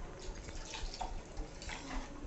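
Hot water is poured from a glass into mutton cooking in a pot, giving a steady, soft splashing pour that continues throughout.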